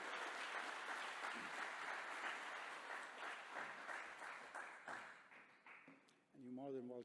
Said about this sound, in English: Let's go, a very big round of applause.